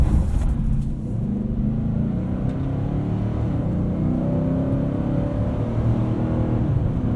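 A 2020 Nissan Titan Pro-4X crew cab truck's engine pulls hard from inside the cab, a loud steady rumble with a brief dip as it shifts, then climbs again.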